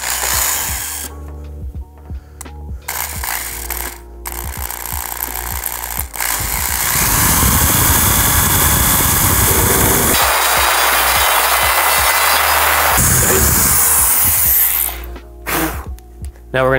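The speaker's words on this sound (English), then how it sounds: "And we're gonna drill straight in." A power drill bores straight into a Seibon carbon fiber hood on a Honda Civic, fitting Aerocatch fasteners on the driver's side; a loud, steady whine runs for several seconds, with shorter bursts before and after.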